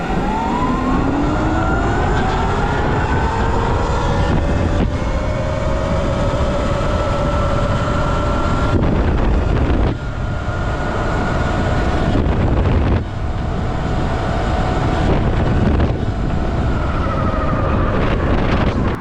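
A Sur-Ron electric dirt bike fitted with a Torp TC500 controller and Chi 60V batteries runs flat out. Its motor whine climbs steadily in pitch under constant heavy wind buffeting, close and loud the whole time.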